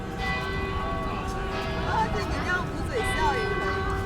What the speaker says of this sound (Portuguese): 4h30, o sino já começa a tocar, avisando que em meia hora a cerimônia vai começar.